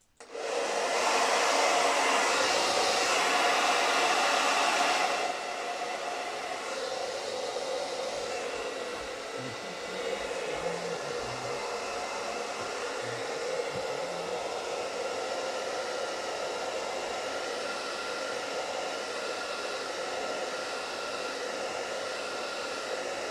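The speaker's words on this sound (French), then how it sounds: "je vais le faire au sèche-cheveux pour voir ce que ça fait" A hair dryer blows steadily to heat stickers on a Tamiya M05 RC car body, loud and close for the first five seconds, then continuing at a slightly lower, even roar with faint handling noises.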